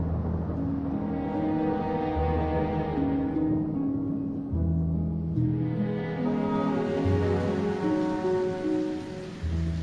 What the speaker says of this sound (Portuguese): as primeiras chuvas chegam ao Pantanal